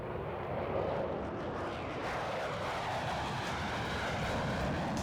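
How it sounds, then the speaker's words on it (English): F-15 fighter jets of the 142nd Fighter Wing fly over the Pacific Northwest, producing a steady, fairly faint broadband roar that holds evenly without breaks. "The unit operates F-15 fighter jets that patrol across the Pacific Northwest."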